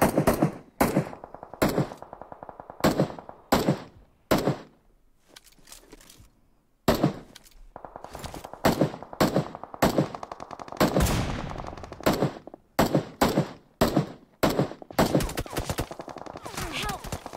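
Rapid bursts of automatic gunfire in the video game PUBG Mobile crack out in repeated volleys, loud and close, separated by brief quiet gaps, with faint talk underneath.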